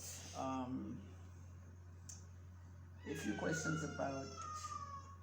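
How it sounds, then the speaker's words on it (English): A cat meows a few times close by, with short, clear, rising cries separated by a pause, over a steady low hum. "is that the beautiful cat?"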